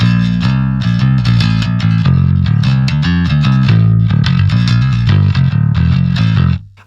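Metal bass played through a Jensen Punch 10-inch traditional speaker, a continuous loud driven riff of fast, clanky picked notes with heavy low end, steady throughout and cut off at the end.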